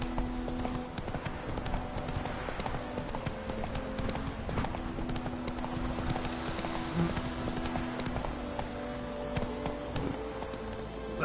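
Hooves of Roach, the horse in The Witcher 3, pound in a fast, even galloping rhythm that continues unbroken from start to finish, close and clear over faint background ambience.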